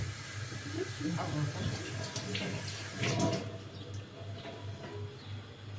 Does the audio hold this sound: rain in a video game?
no